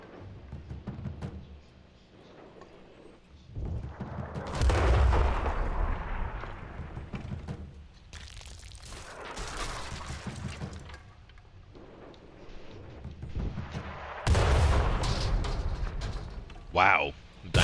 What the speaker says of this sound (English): our artillery's starting to pop off